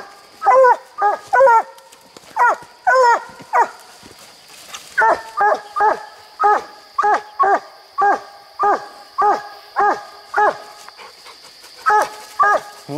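Hunting hounds on a raccoon hunt bark loudly and close in a steady series of sharp, evenly spaced barks, about two dozen in all, with a few quick doubled yelps among them and no talk.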